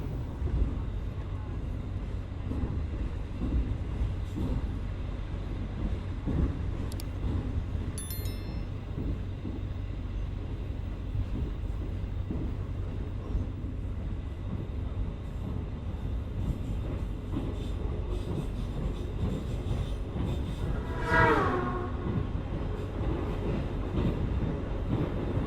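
Gajayana extra executive-class passenger train using older mild-steel coaches, heard as a steady, continuous rumble of running on rails, with a brief high-pitched squeal partway through.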